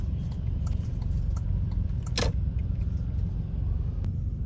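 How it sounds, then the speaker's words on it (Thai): Idling car traffic at a jammed four-lane intersection with red lights in Vientiane, a steady low engine rumble throughout with one brief sharp hiss partway through and no talk. "รถติดคักติดแน่"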